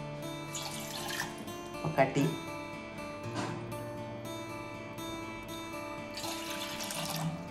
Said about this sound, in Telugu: ఫస్ట్ నీళ్లు తీసుకుంటున్నారు కొలిసి